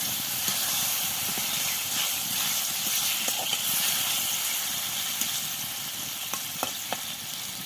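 Potato and eggplant curry sizzles and hisses steadily in a pan after a splash of water, a constant frying hiss with occasional small pops and stirring clinks, no one talking.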